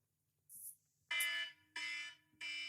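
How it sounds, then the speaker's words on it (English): Fire-alarm-style electronic alarm timer sounding in three loud repeated bursts after a brief high chirp, with silent gaps between blasts. "When the alarm goes, which will sound something like this,"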